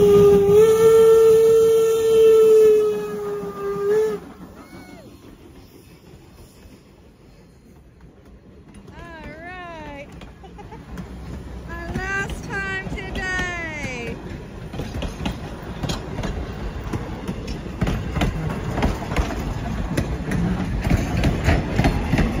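A Strasburg Railroad steam train sounds a loud, sustained whistle at the Cherry Hill crossing, then gives shorter, fainter whistle calls. The rumble of the train builds steadily as it approaches and passes.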